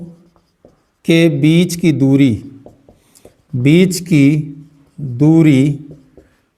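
Writing on a board during a Class 12 physics lesson, scratching faintly beneath a teacher's steady lecturing voice throughout.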